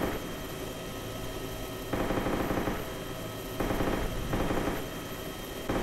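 Rapid, continuous gunfire in the game DayZ's Chernarus map in dense bursts over a steady noisy background, swelling louder in two stretches, with no voices.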